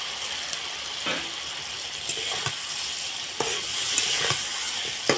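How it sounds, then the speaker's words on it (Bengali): Pointed gourd (potol) frying in a pan with spice paste and a splash of warm water, a steady sizzle under repeated scraping strokes of a spoon stirring, close and fairly loud, no talk. "দিয়ে পটলটাকে আমি একটু কষিয়ে নেব এইভাবে।"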